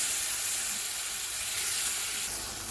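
A large tomato hits hot oil over a medium gas flame, giving a steady, bright, close sizzle that hisses evenly throughout with no voices.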